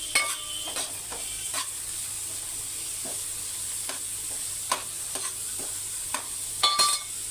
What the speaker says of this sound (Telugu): వేసుకున్నాక కాసేపు తిప్పుకుందాం.